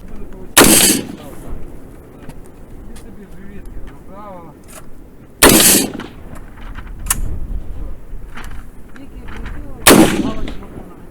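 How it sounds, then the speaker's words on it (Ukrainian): Three loud, sharp AR-15 rifle shots ring out several seconds apart at a shooting range, each with a short echoing tail, with quiet background noise and faint movement between them. "Спробуємо постріляти хоча б кудись у сторону мішені"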